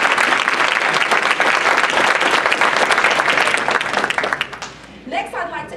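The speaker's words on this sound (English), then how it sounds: "Please give yourselves a round of applause." A room full of community organizations at a county Black History event applauds loudly and densely, fading out near the end as a voice begins to speak.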